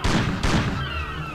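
Two loud rifle gunshots from the video game Mafia fire in quick succession, each a sharp close crack with a booming tail, then a fading high whine.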